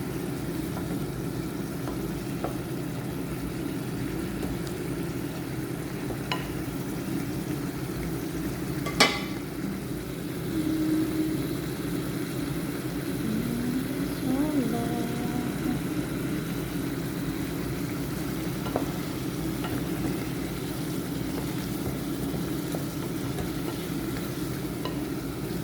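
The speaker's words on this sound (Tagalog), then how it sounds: "Buttered garlic shrimp. Pakuluin lang natin yan siya." Buttered garlic shrimp simmering in a pan, a low continuous bubbling sizzle that runs steadily for a long stretch with a few faint clicks and knocks, quiet and even throughout.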